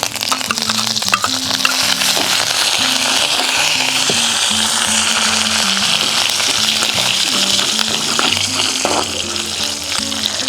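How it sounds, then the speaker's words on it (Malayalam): A handful of curry leaves hits hot oil with mustard seeds and dried red chillies for tempering, producing a loud, continuous close-up sizzle and spatter throughout with no voices. "ഇതിനകത്തേക്ക് ഇനി ഒരു ചെറിയൊരു പിടി കരിവേപ്പില."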